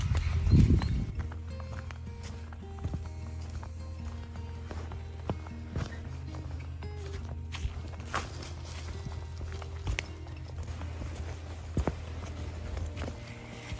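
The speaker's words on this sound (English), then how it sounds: "there's a big field and they literally just let the horses go" Horses walk near a big open field: sparse, irregular hoof clops rise above a steady low rumble, with one louder thud at the start.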